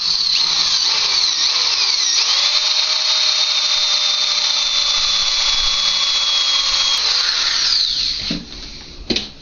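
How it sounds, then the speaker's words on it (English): A power drill bores a 1/4-inch pilot hole in a foot actuator lever control adjustment rod while fitting forward foot controls, a steady high whine running continuously for about eight seconds before spinning down, close and loud with no talk. "started a pilot hole."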